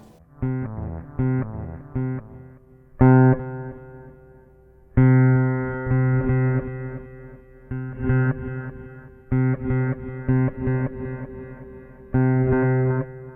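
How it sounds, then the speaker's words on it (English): Bass guitar notes played through a Ghost pedal ring out in separate phrases, each swelling in with a smeared, backward-sounding wash of reverse reverb before the attack. "I guess the reverse reverb acts a little bit like a delay."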